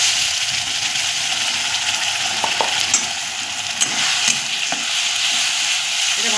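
Ginger, garlic and green chilli paste sizzles loudly in a pan while being stirred, a continuous close hiss broken by occasional clinks and scrapes of the spoon.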